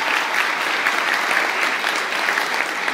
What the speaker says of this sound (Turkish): Antalya Büyükşehir Belediyesi Tiyatrosu'na bir büyük alkış onlara istiyoruz.